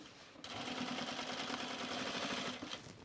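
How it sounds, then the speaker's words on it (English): A sewing machine topstitches the side seam of a pair of pants in one steady, fairly quiet whirring run of about two seconds, starting and stopping cleanly. "So I'm just top stitching this side seam."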